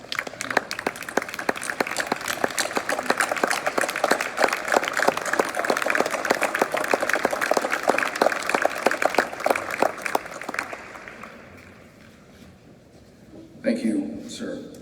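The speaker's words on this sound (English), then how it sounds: "can we please stand and give this warrior a round of applause?" An audience stands and applauds a veteran battling cancer: dense, sustained clapping for about eleven seconds that fades away, followed by a brief voice.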